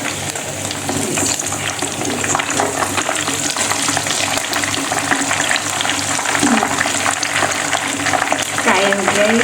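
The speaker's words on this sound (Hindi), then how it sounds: "फिर लो टू मीडियम फ्लेम पे हम इसे फ्राई करते रहेंगे" Chicken chargha fries in oil over a low to medium flame, a dense, steady sizzle and crackle heard up close, with a few scraping stirs, and a voice speaks over it.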